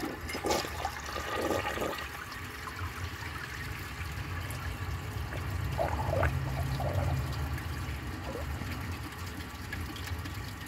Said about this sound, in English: I'll flush it again.